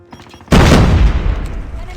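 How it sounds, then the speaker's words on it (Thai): A sudden loud grenade blast erupts after a quiet moment in Call of Duty Mobile, followed by a long rumbling, crackling decay. "เฮ้ยระเบิด"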